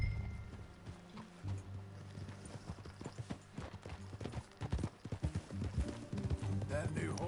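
Horse hooves clip-clop in a steady riding rhythm in Red Dead Redemption 2, with game music and voices speaking over the hoofbeats.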